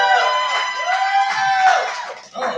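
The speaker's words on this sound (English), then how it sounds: "can we get a little noise from the crowd?" A crowd at a live streamed event cheers and whoops in a loud, continuous swell of voices with a few high shouts that rises and falls for a couple of seconds.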